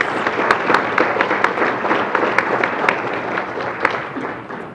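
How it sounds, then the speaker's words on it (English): A crowd at a regional award ceremony applauds the award winners, a steady, moderately loud patter of many hands with scattered sharper claps standing out. "let's have a round of applause for all of the award winners"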